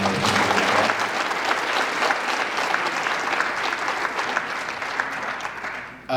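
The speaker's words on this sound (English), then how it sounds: "So let's give Alex a round of applause." An audience claps steadily for athlete Alex, a springboard and platform diver, at a school athletic signing day, the applause dense and sustained for about six seconds before tapering off.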